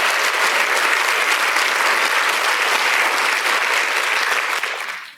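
A church audience claps in loud, sustained applause, a dense wash of many hands that holds steady for several seconds, then fades out quickly at the end.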